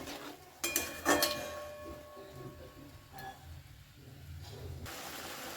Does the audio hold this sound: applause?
no